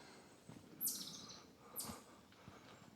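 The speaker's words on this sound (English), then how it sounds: "Birds." Two faint, high chirps from birds sound about a second apart along a hot, humid hiking trail, set against quiet outdoor background.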